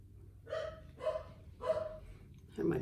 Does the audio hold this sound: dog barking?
yes